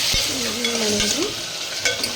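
Mutton sambar masala frying in a pan while a spoon stirs it, giving a steady close sizzle with a few sharp scraping strokes of the utensil, no talking.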